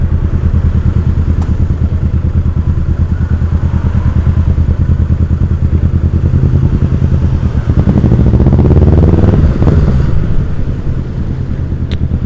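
A Kawasaki Ninja 650 motorcycle with a loud aftermarket exhaust rumbles steadily up close in traffic, revving harder and louder toward the end before settling back to a throbbing idle.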